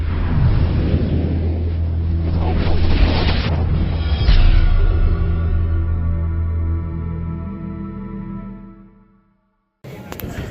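A Vapor Zone Hybrid bowling ball rolls down a lane with a loud, deep rumble that carries for several seconds, then gradually fades away before the sound cuts off.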